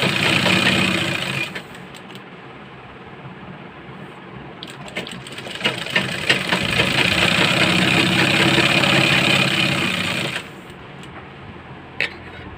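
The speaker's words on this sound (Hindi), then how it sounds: "आधी आधी इंच की दूरी में सिलाई लगाएंगे और आधा इंच कपड़ा अंदर और आधे इंच की दूरी इस चीज़ को रखते हुए ऐसे सिलेंगे।" A sewing machine stitches the neckline of a boat-neck kurti in loud, rapid whirring runs, stopping briefly near the start, then buzzing steadily for several seconds before halting near the end.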